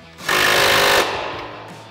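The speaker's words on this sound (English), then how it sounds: "Grab our 18 mil socket on our impact" An impact wrench fitted with an 18 mm socket tightens a bolt on a Mustang coil-over suspension, giving one loud, close, rattling burst of about a second that trails off as the motor winds down.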